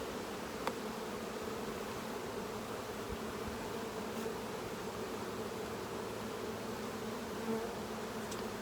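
Honey bees buzz steadily around an open hive while a brood frame of larvae is handled, a soft, even drone with a few faint clicks and no voices.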